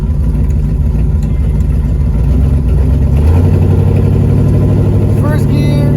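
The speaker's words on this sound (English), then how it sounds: "So now let's start driving the standard to make sure that everything shifts smoothly." A car engine driving under manual-mode shifting with a CompuShift controller gives a steady, loud, close engine rumble whose pitch climbs as it revs.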